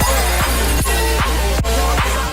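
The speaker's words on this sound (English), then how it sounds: "the constant glass breaking during the album" Glass-breaking sound effects in a digicore album track, sharp repeated shattering hits recurring about every half second over dense, loud electronic music.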